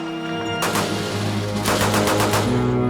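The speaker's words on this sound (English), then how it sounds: "This is a U.S. rifle caliber 30 M1." U.S. M1 .30 caliber rifle from Medal of Honor: Rising Sun firing a quick run of loud, sharp reports in close succession, over a steady tonal musical backdrop.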